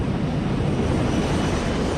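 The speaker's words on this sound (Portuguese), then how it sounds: "agora o Airbus está caindo em parafuso em direção ao solo a aterrorizantes 70 metros por segundo" An Airbus airliner falls in a spin toward the ground, a loud, steady roar of engine and rushing air filling the whole stretch with no voices.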